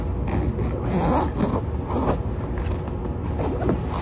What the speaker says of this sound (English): You zip it like you're zipping a coat.